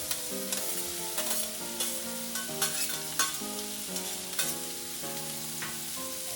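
Sliced cucumber and pork stir-fried in a wok over high heat, with a steady sizzle and repeated scraping stirs under light background music.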